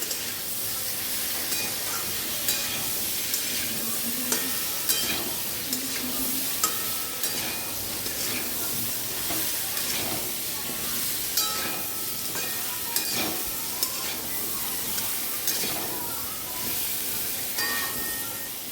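Mango pieces with turmeric stirred in a frying pan in a village kitchen, a low constant sizzle and hiss with repeated light scrapes and taps of the spatula throughout, no speech.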